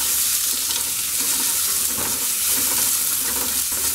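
Chopped onion and Byadagi chilies fry in half a spoon of oil, making a loud, unbroken close-up sizzle with soft stirring scrapes underneath and no talking.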